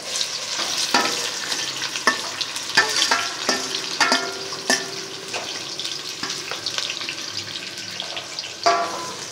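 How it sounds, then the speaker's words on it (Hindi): Three large onions frying over high heat in a quarter cup of oil for badami beef korma: a steady, close sizzle and crackle throughout, punctuated by sharp pops and the scrape of stirring, with no talking. "पहले हम प्याज फ्राई करेंगे तेज़ आंच पर"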